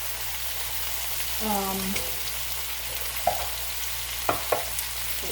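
Rice frying in a pan with a steady soft sizzle, a brief tonal squeak early on and a few sharp utensil scrapes and taps near the end.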